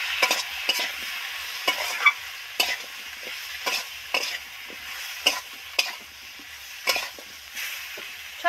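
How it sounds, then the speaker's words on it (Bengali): Ground cumin, coriander and chilli spices are stirred in a hot pan for a fish curry, with a soft sizzle underneath and a spoon scraping and knocking against the pan in irregular strokes. "ভালো করে নেড়ে চেড়ে মিশিয়ে দেব।"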